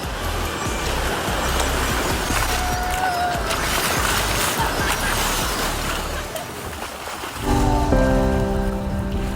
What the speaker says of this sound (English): So it's raining and now I really want to go back into my room, really.